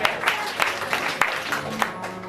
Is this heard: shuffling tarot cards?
no